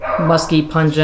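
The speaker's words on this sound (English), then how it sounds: "Sorry about my dogs." Several dogs bark in quick, high yips, about four short bursts in a row close to the microphone, while a person talks over them.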